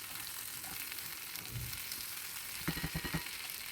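Bitter gourd pieces and onion masala frying in a pan, a soft steady sizzle that ends in a short burst of stirring scrapes.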